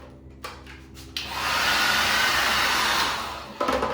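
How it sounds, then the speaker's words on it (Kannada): A hotel room hair dryer in a Maldives hotel bathroom switches on, blows with a steady loud whoosh for about two seconds, then winds down, with quieter room noise before and after. "ಡ್ರೈಯರ್ ಕೊಟ್ಟಿದ್ದಾರೆ."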